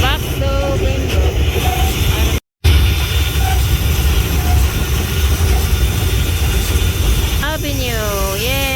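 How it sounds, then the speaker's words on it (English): A vintage steam train runs on the Glenbrook Vintage Railway, heard from a first-class carriage: a loud, continuous rumble and rattle of the moving train, with a brief break early on and a voice near the end. "We are riding vintage train from GlenBrook and then back to GlenBrook."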